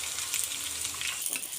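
Tempering of cumin, dried red chillies, crushed shallots, curry leaves and asafoetida fries in hot oil for Andhra-style sambar, a close, steady crackling sizzle with light stirring and no talking.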